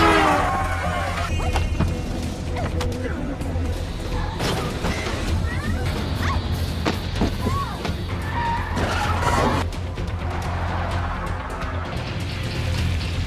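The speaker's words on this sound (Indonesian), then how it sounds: "Sunny pun mencoba melarikan diri dengan mengendarai mobil untuk pergi dari basement parkiran mobil" Car tires skid and screech as a vehicle flees a parking basement in a film chase scene, a dense, loud stretch of engine roar, squeals and impacts with speech-like voices mixed in throughout.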